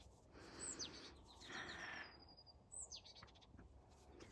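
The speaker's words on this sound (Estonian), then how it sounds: "See on sellest, et linnukesed laulavad kõik hästi kõrgesageduslikul helil" Small birds sing high, thin chirps and whistles outdoors in spring, with a few quick rising and falling calls standing out over a soft, steady background.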